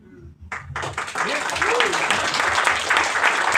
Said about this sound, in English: big round of applause again for all these amazing guys